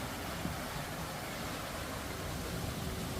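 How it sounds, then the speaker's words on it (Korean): Water flowing in a mountain stream near a check dam on Gwanggyosan, a steady, soft, continuous rushing wash with no other distinct sounds. "아, 물소리 너무 좋다"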